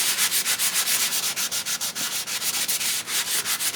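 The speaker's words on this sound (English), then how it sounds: "So what I do is I sand down the surface so it's nice and soft." Quick rhythmic sanding strokes scrub back and forth across the surface of a stamping sheet, a close, steady rasp with no voices.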